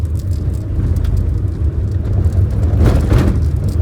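Engine of a manual car driving on a hill road, shifted between second and third gear, with a steady loud drone and a swelling rise in revs near the end, no voices heard.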